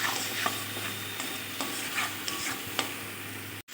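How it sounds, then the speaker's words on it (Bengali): Spice paste with salt, turmeric and dried chili powder stirred in a pan while it fries, with a steady sizzle beneath a few scraping strokes of the spoon, close and continuous with no talking. "পরিমাণ মতো নুন, হলুদ, শুকনো লঙ্কার গুঁড়ো দিয়ে ভালোভাবে নেড়ে চেড়ে আমি মশলাটা কষিয়ে নেব"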